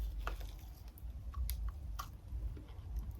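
Close, quiet chewing of a milk chocolate bar studded with kettle cooked potato chips, soft crunchy bites and wet mouth sounds in an irregular rhythm, with no talk.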